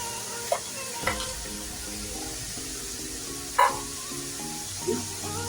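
Ginger, garlic and green chilli sautéed in a pan for a beef dish, a soft steady sizzle with a few brief stirring clatters, close and fairly quiet, no talking.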